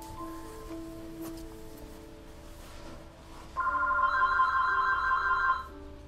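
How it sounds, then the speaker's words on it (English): Telephone ringing in the video game Heavy Rain, a bright electronic trill that starts partway through and rings steadily and loudly over quiet game ambience. "Ah, that phone!"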